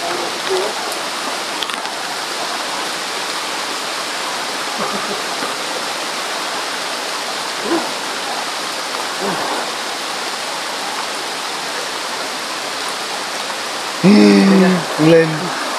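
Heavy rain falling in a storm, a dense, steady roar of downpour throughout, with a brief shout of voices near the end.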